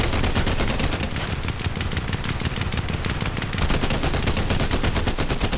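Loud, relentless automatic fire from a video game gun unloading an entire magazine, a dense steady stream of rapid shots that barely pauses, with no talking over it.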